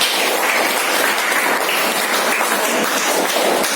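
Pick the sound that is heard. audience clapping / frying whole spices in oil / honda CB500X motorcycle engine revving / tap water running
audience clapping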